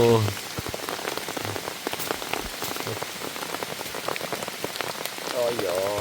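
Heavy rain pouring down in a mountain forest at a hunting camp, dense steady patter of drops striking nearby surfaces, loud and continuous, with brief faint human sounds at the start and end.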